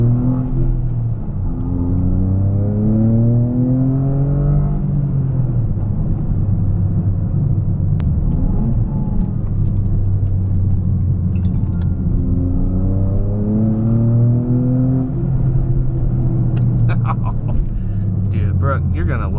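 A Toyota GR Corolla fitted with an MBRP exhaust revs repeatedly, its loud, close engine note sweeping up and down in long rising and falling pulls, with a brief crackle near the end.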